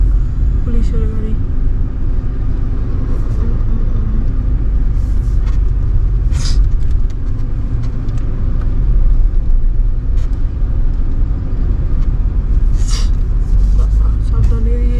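Road traffic rumbles continuously on a road near a railway gate in Purulia, with a bus approaching and passing close by, engine noise steady throughout and brief brake hisses, under intermittent talk.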